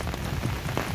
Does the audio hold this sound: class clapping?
no